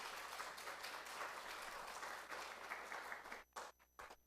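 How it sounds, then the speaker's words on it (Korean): A church congregation applauding at a Sunday afternoon service, a dense, sustained wash of clapping from many hands that ends abruptly, followed by a few scattered claps. "박수 한번 해주시기 바랍니다"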